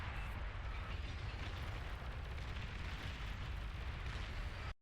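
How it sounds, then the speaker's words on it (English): Bombing run in the real-time strategy game Beyond All Reason: a dense, continuous roar of overlapping explosions with heavy low-end rumble, loud and sustained throughout, cutting off abruptly at the end. "There's the bombing run."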